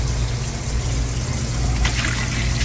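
White vinegar poured steadily into a stock pot for a half-water, half-vinegar pickling brine, a continuous liquid gush over low kitchen hum, close and fairly loud with no talking.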